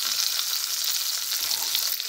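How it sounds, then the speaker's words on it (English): A roughly four-pound beef rump roast sears in a hot pan ahead of slow cooking, giving a steady, dense sizzle that stays loud and even from start to finish with no voices. "I'm searing it before I put in the slow cooker."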